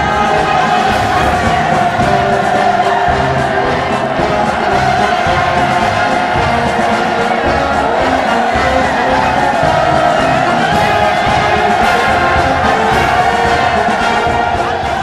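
A huge crowd roars and cheers throughout a civilian parade in North Korea, a loud, dense, sustained wash of voices with scattered whoops and no clear gaps.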